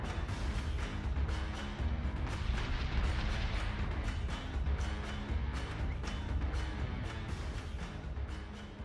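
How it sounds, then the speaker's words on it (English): Incoming missiles and explosions in the space combat game Battlestar Galactica Deadlock, a dense, continuous barrage of booms and blasts rumbling loudly throughout with no pauses. "Missiles incoming."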